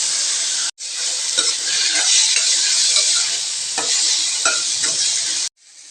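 Chopped tomato and onion sauté in hot oil, a loud, steady close sizzle with scraping stirs at intervals, cutting out briefly near the start and again at the end.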